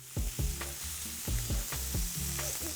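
Curried lamb chops sizzle in a hot pan as they are turned, a steady close frying hiss punctuated by several dull thuds of the meat being moved.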